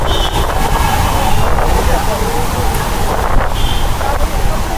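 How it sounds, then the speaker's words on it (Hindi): Strong wind buffets the microphone beside a body of water near Golconda Fort in Hyderabad, a loud continuous roar with gusty surges and faint water movement underneath. "हवा भी बहुत भयंकर चल रहा है, देख रहे हैं कितना भयंकर उड़ रहा है पानी।"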